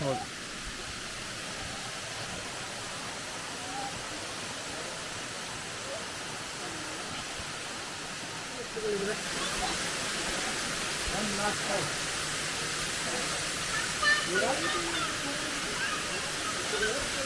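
Rushing water at the Bheemeshwara waterfall beside a temple forms a steady broadband hiss, growing louder partway through as the flow comes nearer, with faint voices underneath.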